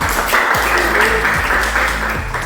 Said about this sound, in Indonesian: Jadi itu berikan tepuk tangan.